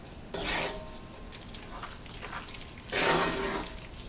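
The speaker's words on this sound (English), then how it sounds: "Stir that all together so everything's nice and incorporated." Spinach artichoke dip mixture is stirred in a bowl, giving wet squelching, scraping swishes in two louder bursts with softer mixing between, close and without talk.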